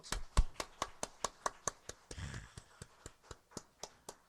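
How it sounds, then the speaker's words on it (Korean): Rhythmic unison clapping from a church congregation during a Sunday worship service, about eighteen sharp, evenly spaced claps in a steady beat, with a brief murmur of voices in the middle. "이건 박수 쳐야 되지 않겠어? 박수. 하나님께 박수."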